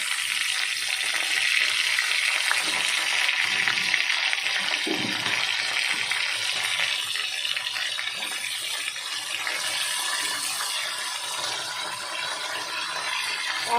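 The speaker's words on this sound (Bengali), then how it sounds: "দিয়ে কপি আলুগুলো ভালো করে আর একটু ভেজে নেবো।" Potatoes and cauliflower frying in a pan for a Bengali cauliflower curry, giving a steady, close hiss and sizzle that runs evenly throughout with no talking.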